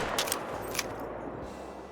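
A rifle shot at a fox in the hunting game Call of the Wild, two sharp cracks standing out over steady outdoor ambience, moderately loud, with no voices.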